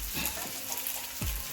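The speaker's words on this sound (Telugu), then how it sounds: "టేస్టీ చేపల ఫ్రై రెడీ అయిపోయింది." Pieces of fish fry on a tawa pan in a steady, close hiss of sizzling oil with faint stirring sounds and no talking.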